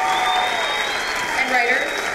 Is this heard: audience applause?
yes